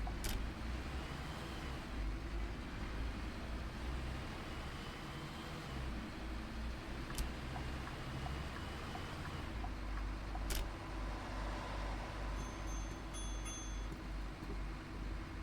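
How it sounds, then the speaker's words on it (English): A Scania V8 bus engine in the OMSI 2 simulator runs at a steady low, rattly drone, faint and continuous, with a couple of sharp clicks and a soft chime late on. "Scania V8s rattle, they're very rattly things"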